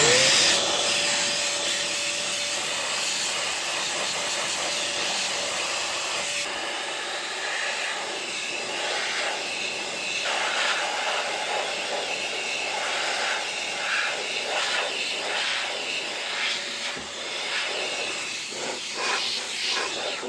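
A CompuCleaner Xpert electric dust cleaner blows air in a continuous loud hissing whoosh for about twenty seconds, with its pitch and texture shifting slightly as the nozzle is moved.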